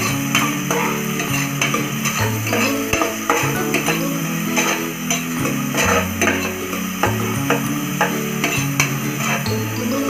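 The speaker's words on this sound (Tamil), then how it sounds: "சின்ன சின்னதாக கட் பண்ணியிருக்கிற வெங்காயத்தை எடுத்து ஃப்ரை பண்ண போகிறோம்" Chopped onions frying in oil for mushroom biryani, a steady loud sizzle with repeated stirring and scraping knocks throughout.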